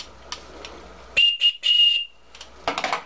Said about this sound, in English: It's got a whistle on it.